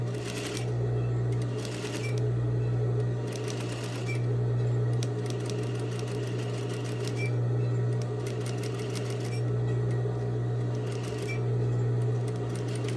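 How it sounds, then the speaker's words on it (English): A sewing machine stitches lightweight fabric in a steady, close, continuous whir, with brief pauses and short bursts of faster running every few seconds. "this is a lightweight fabric. It should move very, very smoothly through the machine."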